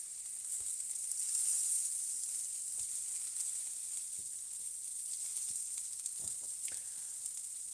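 Arayes, meat-stuffed flatbread, frying in a pan, a constant bright sizzle and hiss with a few soft knocks as the pieces are turned, no talking.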